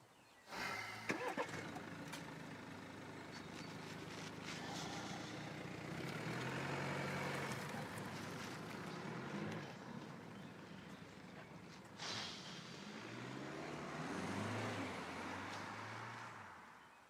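A car engine starts and the vehicle pulls away, a low rumbling idle rising into revving as it drives off, fairly faint and muffled, with a brief surge near the end.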